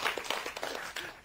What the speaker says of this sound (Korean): 이럴 땐 박수 한번 치고 합시다.